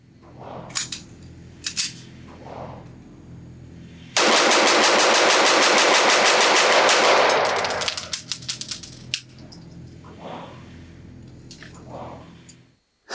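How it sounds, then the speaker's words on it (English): Rapid-fire magazine dump from a Sig Sauer P320 Equinox pistol at a range: a dense, loud string of fast shots for about four seconds, preceded and followed by a few isolated reports. "I'll shoot it as fast as I can"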